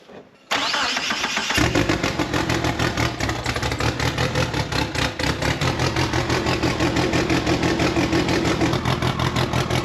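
A Dodge Stealth R/T twin turbo engine cranks with a brief whirring starter, catches, and settles into a loud, rapidly pulsing idle that runs on steadily and close by.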